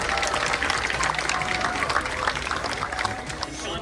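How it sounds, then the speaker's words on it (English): An audience at a leadership talk gives a round of applause for a young man and his mother, a sustained, rustling clatter of many hands with some voices mixed in. "A big round of applause for them."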